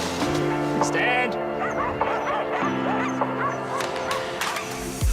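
Sled dogs bark and yelp eagerly in a snowy winter setting, several animals overlapping in quick repeated barks and whines over a constant low engine-like hum, close and loud.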